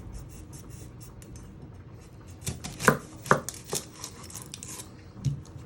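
A knife chopping the ends off an onion on a board, a few sharp close knocks clustered in the middle, with soft scraping before and after.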